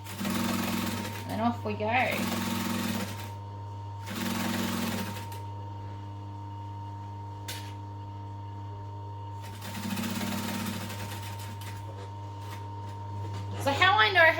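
Sewing machine stitching through vinyl for a duffel bag, running in several short bursts of a few seconds each with pauses between, loud and close, with a person talking over and between the runs.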